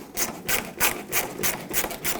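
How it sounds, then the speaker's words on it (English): A screwdriver turns out Phillips screws holding the taillight of a 1995-2004 Toyota Tacoma, producing a rhythmic series of short scratchy, ratcheting rasps roughly every third of a second, close and moderately quiet, no talking. "just take a screwdriver and remove all 4"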